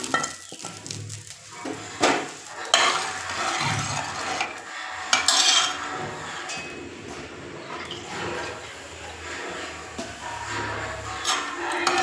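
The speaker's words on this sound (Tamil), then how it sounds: "இப்போ நம்ம வெண்டைக்காயை போடலாம். இந்த பாருங்க நல்லா வதங்கிடுச்சு." Okra sautéing in a pan for sambar, sizzling steadily with intermittent stirring and scraping of a utensil against the pan, close and fairly loud.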